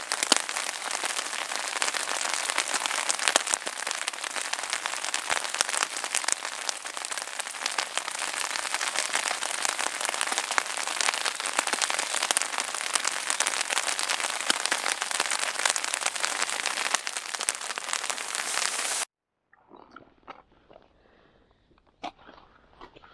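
Steady, dense rain pours down on a surface for most of the stretch during float fishing, then stops abruptly, leaving only faint scattered drips and small sounds.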